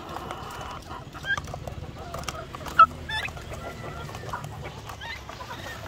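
A flock of chickens clucks softly while pecking at feed, with scattered close clucks and one sharper squawk over a low, busy farmyard murmur.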